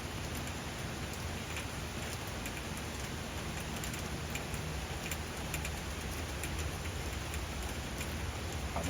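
Steady rain falls and patters on surfaces, a dense, even hiss with scattered drip ticks, constant throughout and unbroken by voices.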